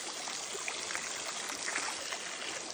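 Water rushing in a rain-swollen mountain stream on the way back from the Pathibhara temple trek, a steady, dense broadband roar that fills the whole clip with no talk over it.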